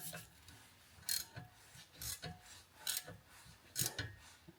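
A hand ratchet tightens a 17mm bolt on a Range Rover front suspension control arm, giving several close bursts of metallic clicking separated by short pauses.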